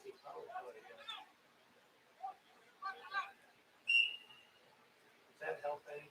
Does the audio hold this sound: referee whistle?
yes